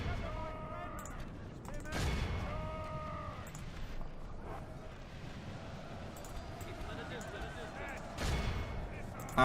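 Gunfire in a Divide & Conquer video game battle, scattered muffled volleys and heavier booming shots at a distance, with a few louder bursts over a steady battlefield rumble and faint tonal sounds.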